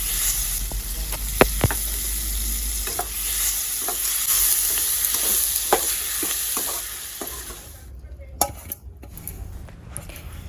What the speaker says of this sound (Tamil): இப்போது இஞ்சி பூண்டு போட்டுட்டு கலரி விட்டுறலாங்க.